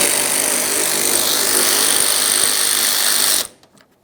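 A power tool whirs loudly and steadily for about three and a half seconds while backing out a 10mm bolt from the bumper cover corner of a 2011-2021 Jeep Grand Cherokee, then cuts off, followed by a few faint clicks.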